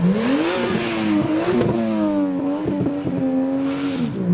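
A turbocharged Toyota JZX revs hard nearby, its tone climbing and dipping through several throttle blips with a rough, boosted growl, loud and continuous, leaving a Japanese car show at Beaulieu.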